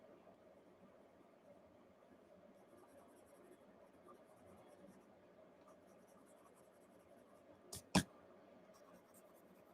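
An ivory colored pencil blends across a coloring page with a steady, faint scratchy rasp, broken near the end by a couple of sharp clicks.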